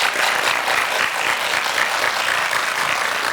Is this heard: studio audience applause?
yes